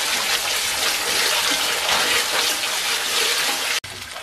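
Boiled kapra (pumpkin vine) shoots being washed under running water, a steady loud gushing stream like a tap filling a basin, continuous and close before cutting off abruptly near the end.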